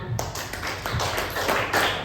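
A church congregation claps together in a steady, dense burst of applause during a Sunday service, carrying on for a couple of seconds.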